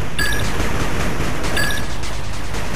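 In the 8-bit Armies video game, machine gun turret fire rattles in dense continuous bursts, with two short electronic alert tones layered over the clatter.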